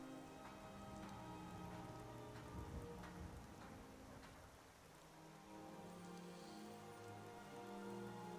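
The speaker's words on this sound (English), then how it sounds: "Wish it wasn't raining." Steady rain falls in the town of Riverwood in a video game, a continuous patter of drops on surfaces with occasional low rumbles like distant thunder, soft and even throughout.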